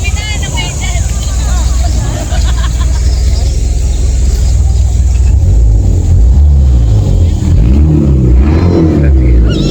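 A loud, low boat engine rumbles steadily nearby, idling and revving as the boat docks, while voices talk over it.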